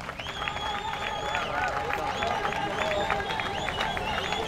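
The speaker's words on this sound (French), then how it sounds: "Applaudissez-les," An audience in a hall applauding professors of UDPS with steady, dense clapping and a few cheers, while someone speaks over the noise.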